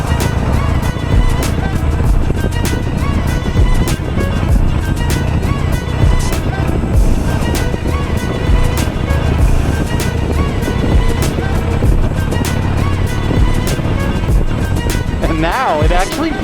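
A 17-year-old Harley-Davidson Nightster motorcycle rides through Friday evening traffic with a loud, continuous engine rumble and heavy wind noise, and a rider's voice talks over it.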